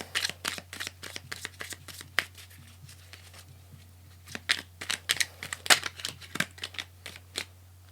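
Cards are pulled in a digital card video game, producing a rapid series of crisp, papery flick and snap effects in irregular bursts over a low, constant electrical hum.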